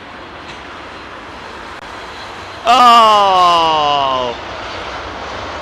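An Icelandair airliner in new livery landing at Heathrow during a snow shower on Christmas Day: a loud, sudden engine whine with falling pitch lasting about a second and a half before fading back to steady airport background, with a brief exclamation.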